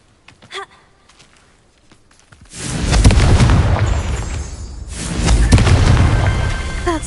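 Confringo fire spell explosions in the video game Hogwarts Legacy: after a short gasp, two loud, roaring blasts hit in turn, each swelling and rumbling for a couple of seconds.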